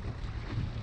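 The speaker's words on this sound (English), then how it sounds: "A little windy today." Steady wind buffeting across a fishing boat heading out on Matlacha Pass, a broad low rumble and rush without break, fairly loud and close, with no talk.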